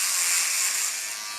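An electric Turobot clipper for dogs and cats runs in a steady, close buzzing whine that fades slightly toward the end, cutting through material as it trims.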